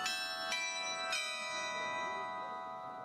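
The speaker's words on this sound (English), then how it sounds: "the Catholic Church also features a carillon of bells" Church bells from a carillon at a Catholic church in Germany ring with two clear strikes close together near the start, their long harmonic hum sustaining and slowly fading, with no voices.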